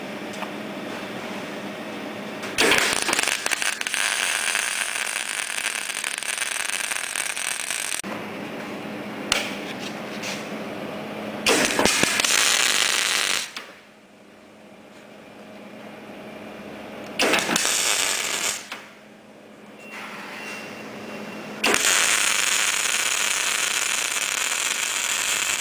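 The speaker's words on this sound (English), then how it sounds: "we're just doing some standard welding just to show you the settings for the machine" Telwin MIG 222 MIG welder running at 50 amps in a steady welding run, a loud continuous buzzing crackle broken into several bursts of a few seconds each with short pauses between them, no talking.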